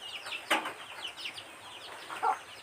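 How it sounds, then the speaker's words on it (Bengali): Hens and chicks cluck and peep close by, a scatter of short chirps with a couple of louder clucks standing out. "মুরগির ছানাগুলো কি করতেছে দেখেন।"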